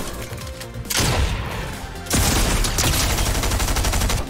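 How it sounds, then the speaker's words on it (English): Shotgun blasts from a two-shot shotgun in a close-range video game fight: loud, dense bursts of gunfire starting about a second in, with a second heavy volley around two seconds, sustained and crowded with overlapping shots and game noise. "He like almost one-pumped me with the two-shot shotgun"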